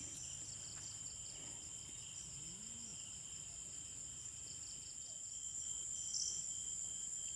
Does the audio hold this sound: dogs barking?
no